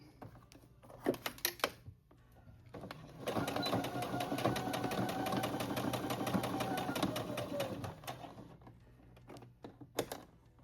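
A sewing machine stitches the seam of a raglan athletic jacket in one steady run of several seconds, set between short bursts of quick clicking stitches before and after.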